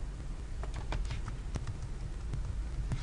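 Computer keyboard typing while entering a text heading in a Weebly website builder, a handful of light, irregular key clicks over a steady low hum.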